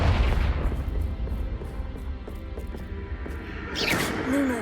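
Blasts of the Confringo fire spell in Hogwarts Legacy thump and crackle repeatedly amid a busy battle mix, with a brighter whooshing burst near the end.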